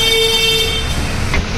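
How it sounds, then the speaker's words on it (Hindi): A car horn honks from inside a parked car, a short blare sounding close and loud over steady vehicle and street noise. "ओ देखो हॉर्न दे रहा है वो अंदर बैठ के"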